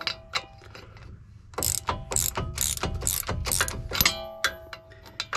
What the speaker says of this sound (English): This is a 17mm socket. Stick that on there and just loosen it up.